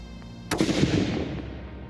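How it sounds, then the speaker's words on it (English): A single sharp report from a 6.5x47 rifle fired at a range, one sudden crack after a quiet moment that decays into a ringing rumble with a faint distant echo, and no voices. "It's either going to be a click or a boom."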